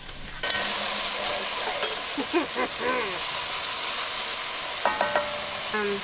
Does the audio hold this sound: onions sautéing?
yes